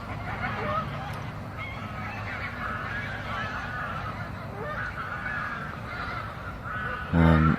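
Waterfowl honk and call repeatedly from the water, a mix of loud nearby cries and fainter ones farther off over steady outdoor background noise.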